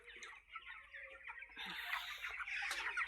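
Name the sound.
chicken clucking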